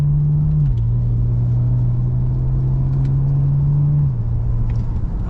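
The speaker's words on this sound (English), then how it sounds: "I'll just do one other little gentle acceleration." A street car with a drag-tuned transmission accelerates gently in sports mode, a steady close engine drone dropping in pitch at two smooth gear shifts.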